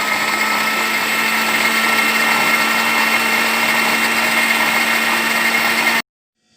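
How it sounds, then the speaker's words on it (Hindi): A kitchen blender blending mayonnaise ingredients runs at a constant high-pitched whir for about six seconds, loud and close, then cuts off abruptly. "ये भी देखिए, हम ब्लेंड कर रहे हैं इसे"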